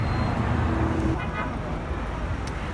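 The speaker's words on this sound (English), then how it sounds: "All they do is keep their hand on the damn horn out here." Dense Manhattan street traffic rumbles loudly and continuously, with a brief steady car horn tone sounding near the start amid the roar of passing vehicles.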